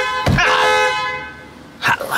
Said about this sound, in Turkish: ne basıyorsun kornaya tak tak tak tak